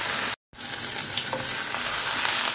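Garlic frying in a pan, a loud, dense, continuous sizzle that fills the clip apart from a brief cut near the start.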